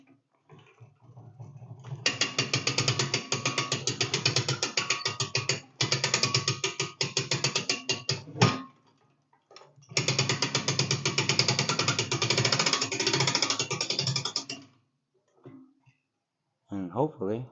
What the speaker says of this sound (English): with this winch here, I'm going to draw that bar in